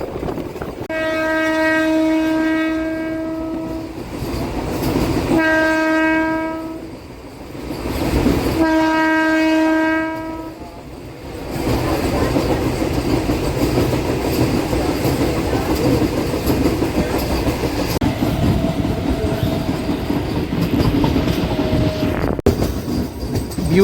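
A MEMU train pulls out of Gudlavalleru station, sounding three long loud horn blasts, then rolls away with rising rumble and clatter, and a fainter horn tone near the end.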